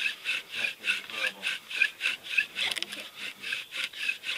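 Rhythmic wooden rubbing and squeaking of a bow drill spinning under downward pressure, a back-and-forth friction sound repeating about three times a second, close and steady.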